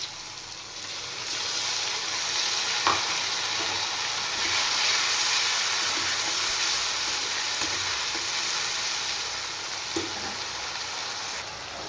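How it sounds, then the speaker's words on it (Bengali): Ginger, garlic and onion paste hits a hot pan and settles into a broad, even sizzle that holds steady for several seconds, with an occasional faint tap of a utensil. "এবার দিয়ে দেব পেস্ট করে রাখা আদা রসুন আর পেঁয়াজ"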